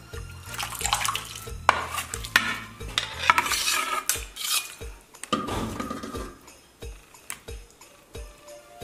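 Braised food is lifted out of a pot with clattering utensils and scraping, alongside wet stirring and sloshing liquid in short irregular bursts, close up and moderately loud.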